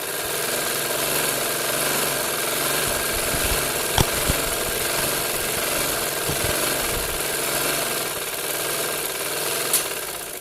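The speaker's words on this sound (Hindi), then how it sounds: "अब हमने दोनों कपड़ों को बराबर बराबर रख के सिलाई लगानी है।" An electric sewing machine stitches two layers of trouser fabric together, giving a steady, continuous mechanical whir with a faint vibration, broken by a couple of sharp clicks, and no talking.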